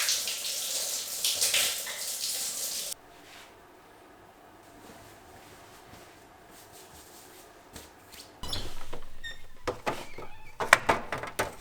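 A home shower runs as a loud, close, hissing spray for a few seconds, then gives way to quiet room tone and later some scattered clattering and knocks.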